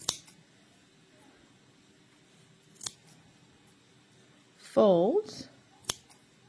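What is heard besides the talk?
scissors cutting yarn folds of a pom pom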